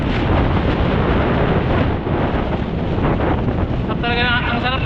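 Loud wind buffets the microphone while riding through Rockwell, Makati, a constant roaring rush with a faint voice-like tone near the end.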